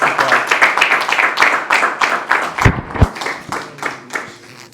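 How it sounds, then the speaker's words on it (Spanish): A church congregation applauds together, a loud, close burst of many hands clapping with uneven rhythm that swells and then tapers off, with no speech over it. "Vamos a dar un aplauso a Jessy."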